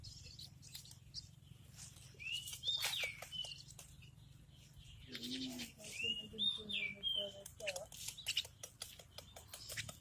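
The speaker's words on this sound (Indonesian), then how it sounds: "ini anak burung ruak-ruak yang kita rawat kemarin dari kecil" A hand-reared white-breasted waterhen (ruak-ruak) chick calls in thin, high chirps and short sweeping cries, grouped in two bursts over a low steady background hum.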